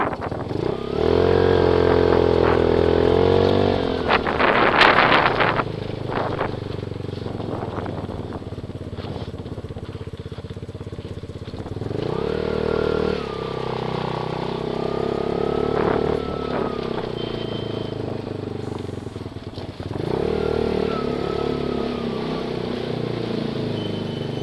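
A recently rebuilt 150cc scooter engine drones steadily while riding, its pitch climbing and falling through several throttle surges with clattering mechanical noise and passing wind, close and loud with no talking.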